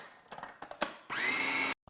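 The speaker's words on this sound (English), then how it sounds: "The way the food processor works, once you start seeing everything like turn around the whole bowl and start like kind of pouring inwards" A food processor whirs steadily for about half a second while blending meal prep ingredients, cutting off abruptly, after some shorter bumps and clatter.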